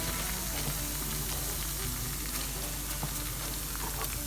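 Red pepper flakes and dried mint sautéing in a little oil for a manti topping sauce, giving a dense, continuous close sizzle with faint crackles and occasional utensil taps.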